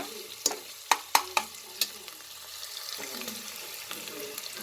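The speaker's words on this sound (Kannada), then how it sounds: "ಈರುಳ್ಳಿದು, ಹಸಿಮೆಣಸಿನ್ಕಾಯಿ ಎಲ್ಲ ಹಾಕಿದ್ದೀನಿ, ಚೆನ್ನಾಗಿ ಫ್ರೈ ಆಗಬೇಕು." Onions and green chillies fry in a pan while being stirred, a soft steady sizzle broken by several sharp scraping knocks of the spoon near the start, no voices.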